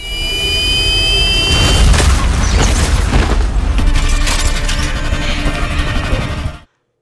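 An explosion blowing up a machine control panel in the James Bond film Spectre, a loud roaring blast with crackling debris that sustains for several seconds before cutting off abruptly.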